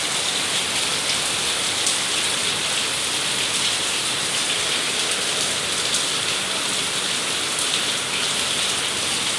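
Heavy afternoon storm rain pours down outside in a dense, even hiss that stays constant throughout, with no voices.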